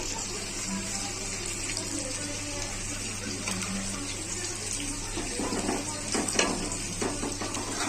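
Water poured into a pan of rohu fish curry cooking with potatoes and pointed gourd, a continuous splashing stream over a steady low kitchen hum, growing a little busier toward the end.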